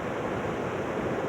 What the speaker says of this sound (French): Aujourd'hui, il y a une tempête épouvantable.